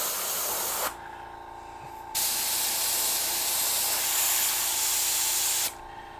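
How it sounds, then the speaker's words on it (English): Paint spray gun hissing steadily through its air cap in long bursts, broken by two brief pauses, loud and close with no talk. "Now just make sure we're spraying good."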